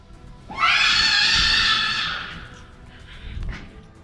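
A creature lets out a loud, drawn-out, high-pitched scream lasting about two seconds before fading, followed by a softer rasping breath in an otherwise quiet setting.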